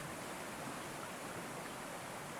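Faint, steady rush of a flowing stream, a continuous even wash of water with no distinct splashes or other sounds.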